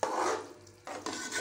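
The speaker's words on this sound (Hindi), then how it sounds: "अब हम सब्जियों और मैक्रोनियों को मिक्स कर लेंगे" Macaroni and vegetables are stirred together in a pan, with close, scraping bursts of utensil against metal broken by a short pause.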